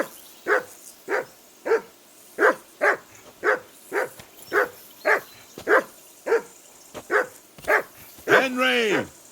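A dog in Kingdom Come: Deliverance II barks steadily, about a dozen evenly spaced sharp barks close by, ending in a longer drawn-out howl-like bark.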